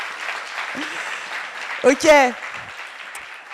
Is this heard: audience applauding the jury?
yes